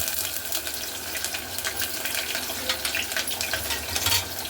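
Onions and ginger paste fry in a pan for sweet corn rice, giving a steady crackling sizzle with scattered sharp pops and stirring clinks, close and continuous with no talk.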